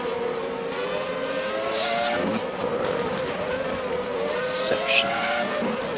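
Formula E race cars at the 2018 Mexican V-Prix whine through a curvy section, their electric drone steady under continuous commentary, with brief tire squeals rising near the middle and end.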